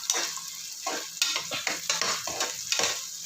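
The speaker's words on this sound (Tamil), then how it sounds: "வெங்காயம், கருவேப்பிலை இது கொஞ்சம் வதங்கட்டும்" Onions and curry leaves sizzle and fry in a pan for coconut tomato rice, a steady close crackle broken by repeated stirring scrapes, with no talking.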